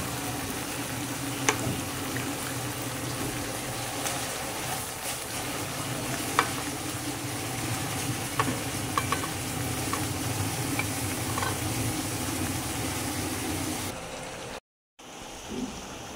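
Duck meat sizzles and fries in a spicy red masala, stirred steadily with a continuous close crackle and occasional scrape, with a short drop out near the end.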